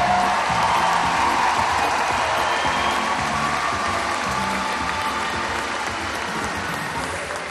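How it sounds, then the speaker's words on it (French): A large crowd at the closing ceremony of the Jeux du Québec games gives loud sustained applause mixed with cheering, a dense roar of clapping that slowly fades toward the end. "On les applaudit une dernière fois!"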